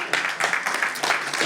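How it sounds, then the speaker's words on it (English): Audience applause for a guest speaker at an event at the House of 1229: a dense, steady burst of many hands clapping, close and fairly loud, lasting about a second and a half. "Can we give him a round of applause?"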